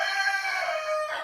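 A rooster inside a homestead barn lets out a single loud, close crow lasting just over a second, bright and harmonic, with nothing else around it.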